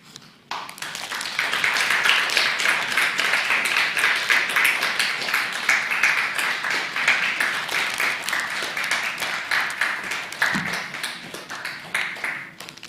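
Sustained applause from a church congregation at a Sunday service graduation ceremony, dense steady clapping filling the room for over ten seconds after a brief quiet start, with a faint voice near the end.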